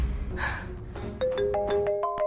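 A mobile phone ringtone starts partway through, a series of steady electronic tones stepping between pitches, following a brief noisy scuffle at the start.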